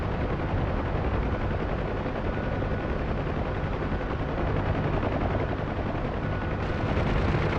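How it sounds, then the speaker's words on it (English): Door gunner machine gun fire from a UH-1 Huey in the DCS flight simulator pours out in a dense, continuous roar over the thudding helicopter rotor, loud and unbroken throughout. "My gunner is opening up too,"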